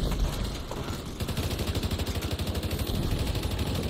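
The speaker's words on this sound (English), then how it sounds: "I'm getting shot in the back." Gunfire in The Division 2: rapid automatic bursts of shots in a fast steady rhythm, loud and close, over a dense rumbling battle background with no talk.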